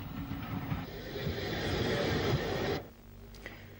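A 1940s-50s Irish narrow-gauge Class 5A steam locomotive shunts train stock near Strabane, a steady rolling, hissing rumble with rhythmic rail clatter that drops away abruptly near the end, leaving faint ambience.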